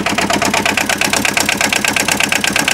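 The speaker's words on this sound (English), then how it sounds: "I've got the engine noise, I've got to shout a little bit." An Aixam Mega Multitruck microcar engine idles in neutral, a loud, steady mechanical chatter with fast regular pulsing that runs unbroken and close to the microphone.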